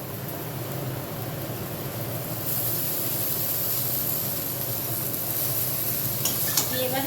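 Noodles being stir-fried with soy sauce and salt in a pan, a steady close sizzle with scraping stir strokes that grows brighter and louder partway through, with a few utensil clinks near the end.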